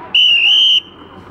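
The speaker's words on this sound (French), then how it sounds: "Et le sifflet pour le départ." One loud, steady high-pitched departure whistle blast from a boat at a canal lock in Mulhouse, lasting about half a second, standing out sharply against faint background noise.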